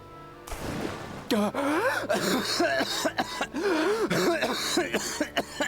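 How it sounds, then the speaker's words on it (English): A raspy, drawn-out coughing and throat-clearing fit from a Genshin Impact character, with strained groaning vocal sounds, close and fairly loud. "Damn that cough, man. So realistic."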